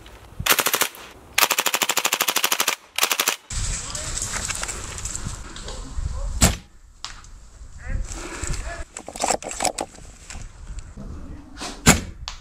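An airsoft gun fires BBs in rapid automatic bursts, two long loud strings of shots at the start, followed by scattered single cracks, impacts and movement noise.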